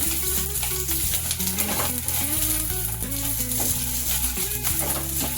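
Chillies frying in hot oil for a spicy chicken green masala, giving a steady, close sizzle with light stirring clinks throughout and no talk.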